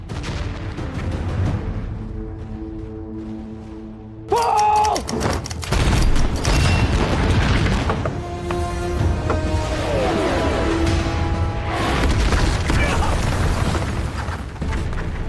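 Rocket artillery bombarding enemy positions in a war film, a dense barrage of booms and bursts with mechanical clatter layered under tonal music and effects, loud and sustained after a sudden onset.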